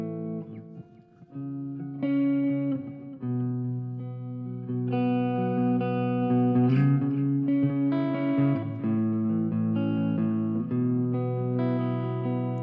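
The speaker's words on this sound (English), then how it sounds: "there's a little bit of delay in there, some reverb and delay, but no compressor" Clean electric guitar played through light reverb and delay with no compressor, a run of plucked notes and chords ringing with echoing tails over about twelve seconds.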